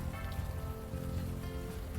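Steady rain falling in the supernatural crime game Unavowed, a continuous soft hiss of drops over a low, even background, with no voices.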